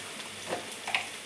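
Spicy marinated chicken fries in a pan, a faint, soft sizzle with a few light stirring scrapes.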